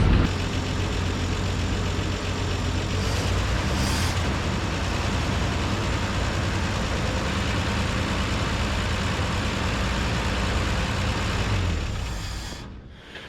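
A 1951 Chevrolet farm truck engine, revived after about 30 years sitting, runs steadily at idle with a loud, even low rumble and no voices, then fades slightly at the end.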